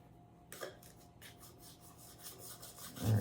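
A knife saws through a thick, crusty loaf of Italian bread in a run of soft, rasping back-and-forth strokes. The strokes are quiet and close, with no talk over them.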